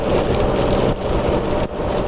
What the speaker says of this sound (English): Yeah, it's raining now, and I'm not getting one little bit of rain on me